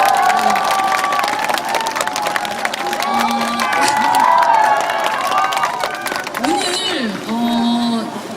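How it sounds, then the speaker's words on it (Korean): A crowd at an open talk with an actor-director at the Bucheon International Fantastic Film Festival claps and cheers, with excited shouts and voices rising over the applause. "박수 한번 부탁드릴게요."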